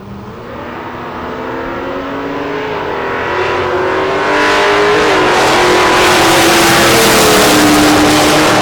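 An 82 Mustang and an 84 Mustang launch side by side in a drag race, engines roaring loud and close as they accelerate, the pitch climbing steadily and the noise building through the run.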